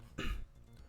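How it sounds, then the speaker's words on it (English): A single short, throaty cough from a man, close to the microphone and fairly quiet, followed by a brief pause. "got interrupted by my cough"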